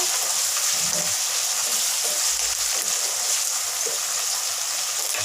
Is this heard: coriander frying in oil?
yes